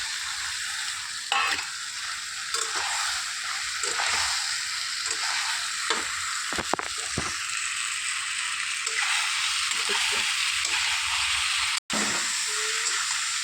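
Vegetables that were fried earlier sizzle in hot oil with a continuous loud hiss, and a few scrapes and knocks of stirring are heard close by. No one speaks.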